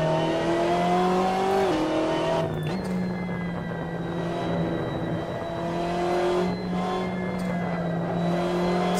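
A BMW M8 GTE race car in Assetto Corsa roars steadily near the grandstands, a loud sustained engine drone with one sharp gear-change dip and brief shifts in pitch.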